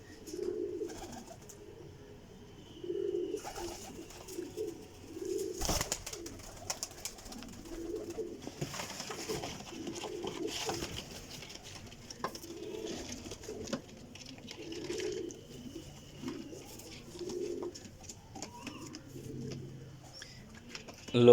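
Pigeons in their pen give soft, repeated throaty coos in short bursts throughout, fairly quiet and close, with someone speaking quietly at times and some rustling.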